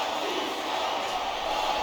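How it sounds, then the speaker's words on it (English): A large wrestling arena crowd at a table, ladder and chairs match roars and chants steadily, a dense, continuous wash of voices with no clear pauses. "Sure I agree with what the crowd is chanting, JR, but I guess it's their right."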